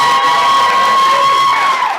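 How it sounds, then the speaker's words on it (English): Wedding guests cheer and whoop for the best man, a loud sustained crowd roar with shouted voices filling the room throughout. "Let's give him a big round."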